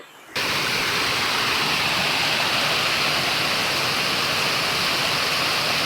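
A steady, roaring rush of Pulusu Mamidi waterfall in the Araku forest fills the scene, loud and continuous from just after the start.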